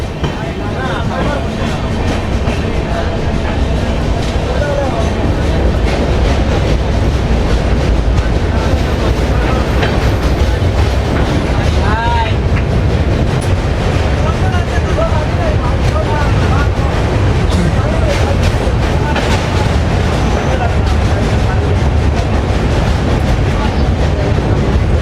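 A train crosses the Brahmaputra road-cum-rail bridge, heard from a general coach of the Silchar–Coimbatore express as a loud, continuous rumble and rattle that fills the whole stretch without break.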